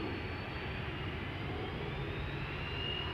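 A KLM Airbus A330-300 jet departs Amsterdam Schiphol, a steady distant engine roar with a faint rising whine, heard alone and fairly quiet.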